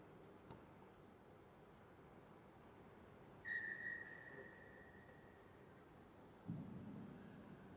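A referee's whistle in a rugby stadium before a Six Nations match between Wales and Ireland sounds one steady, clear blast of about a second, fairly faint over a quiet crowd hush, followed by a low rumble.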